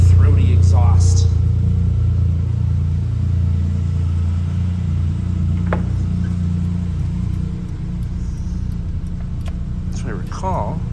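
A 1996 Suzuki Jimny Land Venture kei SUV engine rumbles low and steady with a buzzy, throaty exhaust drone while driving, continuous throughout with a few faint clicks and rattles.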